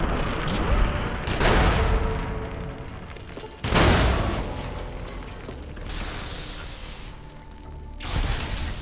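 Grenade blasts and gunfire in Fallout: New Vegas, Lonesome Road DLC, a dense loud barrage of booms and shots with rumbling explosions around two and four seconds, continuous combat noise throughout.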